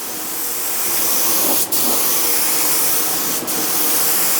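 Steady, loud spray hiss from a Graco HVLP 9.5 sprayer laying water-based finish on a wardrobe in a small workshop, heard up close and broken by two quick pauses.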